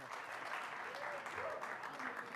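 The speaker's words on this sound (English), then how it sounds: "let's bring up Lucas with a big applause" Applause from a press conference audience greeting boxer Lucas Matthysse, a dense continuous wash of clapping with faint voices mixed underneath.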